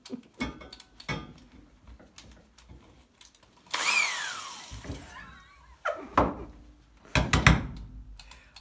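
A power driver whines in short bursts as lag bolts are driven into metal saddle racks, with a rising-then-falling motor pitch and scattered knocks and clunks between bursts.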